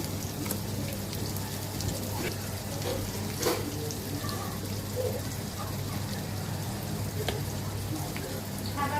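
Shrimp frying in a pan with oil, giving a steady dense sizzle and crackle that runs the whole time at moderate loudness, with a low hum underneath and no voices.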